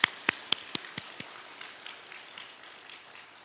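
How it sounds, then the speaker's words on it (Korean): A church congregation at a Wednesday evening service claps, a handful of sharp, fairly distant claps that quickly fade into a soft, scattered patter. "그 하나님께 우리가 영광과 감사의 박수를 돌려드리도록 하겠습니다"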